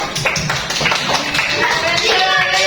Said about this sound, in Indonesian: Sepeda, tepuk tangannya dulu.